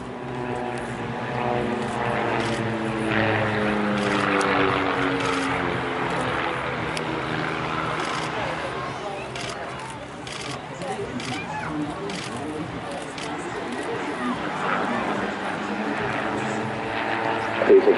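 A Twister aerobatic aircraft flies a tight loop at an air festival in Bournemouth, its propeller engine droning steadily and shifting in pitch as it climbs and turns, with a commentator talking over it throughout.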